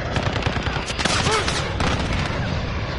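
Rapid automatic gunfire rattles continuously in Call of Duty, dense overlapping shots close and loud with a busy battlefield wash behind them and faint voices underneath.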